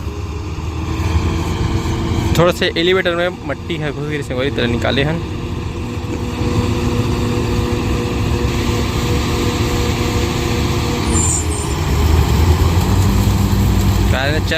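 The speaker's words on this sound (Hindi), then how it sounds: "तो देख सकता संगवारी हो अपन की गाड़ी है चालू हो गई है" A Kartar 4000 combine harvester, working a soybean harvest in Chhattisgarh, has its engine running with a loud, steady idling rumble that persists throughout, while someone talks close by over it.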